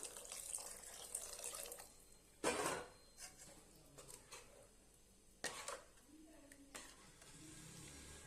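Water is poured into a pot of garlic kuzhambu in a couple of short splashy bursts, quiet and close, with faint stirring and simmering between.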